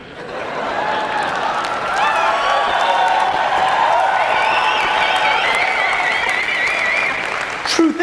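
Sustained audience applause with scattered cheers and whoops fills a motivational talk venue, building after a second and holding steady, with a crowd murmur and a closing shout.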